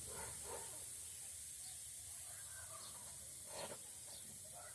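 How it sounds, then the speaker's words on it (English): A paint spray gun hisses steadily at turned-down, low pressure, a soft continuous spray with a few brief brighter bursts, alone without talk. "Now we got it to spray"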